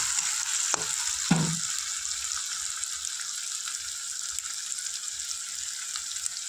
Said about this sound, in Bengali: নুনটা দিয়ে দিলে পেঁয়াজটা তাড়াতাড়ি ভাজাটা হয়ে যায়,